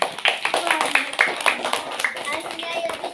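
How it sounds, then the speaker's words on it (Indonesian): A small group of children clapping for a classmate after a storytelling session, a short burst of scattered claps with a voice and children's chatter over and after it. "kasih tepuk tangan dulu untuk Oril."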